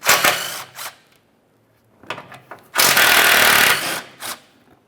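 A wrench or ratchet works a 14mm oil pan mounting bolt loose on a 1994-1997 Honda Accord 2.2L four-cylinder, sounding as bursts of loud close metallic ratcheting, the longest about a second, separated by short pauses.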